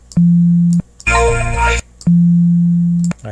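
A pure, steady sine tone at a low fundamental, sustained alone in two long bursts separated by a louder, harsher noisy burst, synthesized by an audio terminal.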